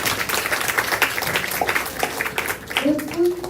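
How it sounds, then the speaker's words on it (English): An audience claps for the speakers at a talk session on the Palestinian-Israel war, a dense spread of hand claps under and alongside a speaking voice, with a short sung or hummed tone near the end. "A round of applause for the speakers"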